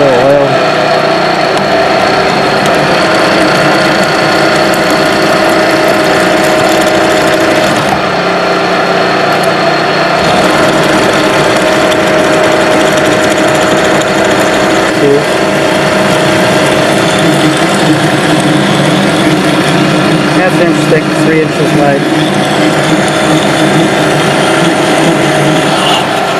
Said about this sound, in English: And drilling the holes.